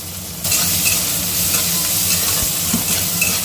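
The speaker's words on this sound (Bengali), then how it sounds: "এবার পেঁয়াজ লঙ্কা কুচি দিয়ে ভেজে নেব" Onion and chopped chilli fry in hot oil in a kadai (wok) for aloo posto, a steady close sizzle with stirring that starts abruptly after a short quiet moment and holds throughout.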